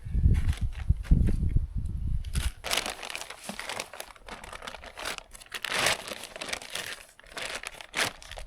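A black plastic tarp is handled close by, scrunched and crinkling in bursts of sharp rustling, with a few soft low thumps at the start.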